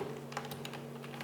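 Typing on a computer keyboard while coding in Python, a quick run of soft, close key clicks spaced irregularly over a faint steady hum, with no talk.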